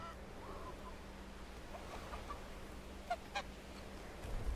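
In the medieval village-building game Bellwright, geese give a few faint honks over a quiet, steady ambient background, with two short calls standing out briefly toward the end.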